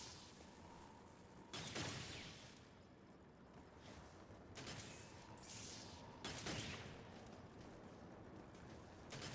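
Gunfire from a Devil May Cry video game, with several heavy, booming shots and blasts spaced across the clip over a dense rumbling game background.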